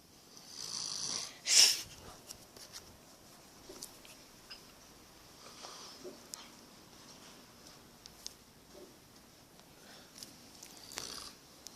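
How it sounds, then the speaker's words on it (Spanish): A man snores in long, rasping breaths, one loud snort standing out early, the rest softer and irregular, close and quiet in an otherwise still room. "es los ronquidos de mi tío, o en otra forma puede ser los ronquidos mortales"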